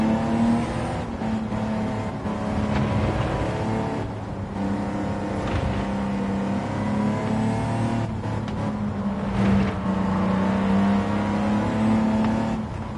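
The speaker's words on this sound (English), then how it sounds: "Braking in this corner without ABS," A Gran Turismo 7 race car brakes into a corner without ABS. The engine drones and shifts in pitch through repeated downshifts and throttle changes, with faint tire noise, close and continuous, and no talking.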